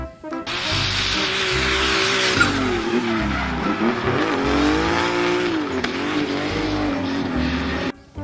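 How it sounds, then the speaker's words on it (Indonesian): A toy race car's engine roars and squeals steadily for several seconds, with a whining, wavering pitch and looping electronic effects, no voices. "warna hijau mobil balap"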